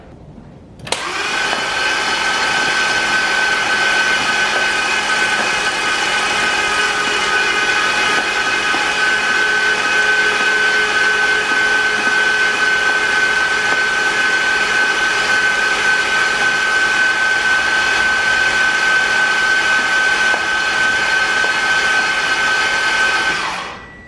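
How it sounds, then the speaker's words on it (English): Audi RS4 V8 engine being turned over after a full rebuild, a loud steady whirring drone with a strong sustained tone that holds unbroken for over twenty seconds before cutting off, with no talking. "I've turned the engine over about 6 or 7 times now."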